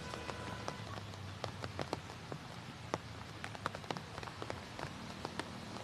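Heavy monsoon rain falls in Delhi, a steady wash of patter broken by scattered sharp drops and splashes landing close by, with no voices.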